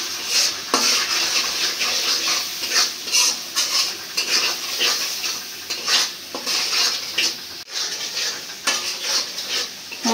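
Masala with ginger-garlic paste fries in oil in a village kitchen, a steady sizzle broken by repeated rhythmic scrapes and clinks of a spatula stirring against the pan.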